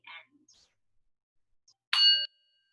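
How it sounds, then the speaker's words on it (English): A meditation bell is struck once in a quiet room, giving a bright, clear ring that sustains briefly and then trails off into faint resonance, preceded by a few soft, small noises. "Bringing your attention to the sound of the bell and try to follow it all the way to the very end."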